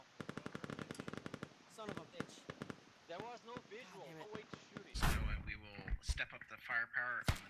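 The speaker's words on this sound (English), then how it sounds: "Shots coming into the compound" Gunshots hitting a compound in a military video game: a rapid burst of sharp automatic shots, then scattered cracks under radio-style voices talking, and a louder crashing impact followed by more chatter and shots.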